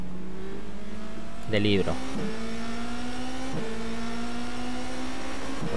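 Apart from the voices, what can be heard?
race car locking its brakes in rFactor 2 video game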